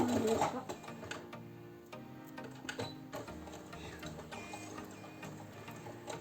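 Beginner sewing machine running stop stitches on a fabric hair scrunchie, giving short rapid mechanical ticking runs broken by brief pauses, quiet and close, with a voice speaking over it.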